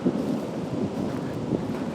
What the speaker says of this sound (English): it's starting to come down, rain pretty hard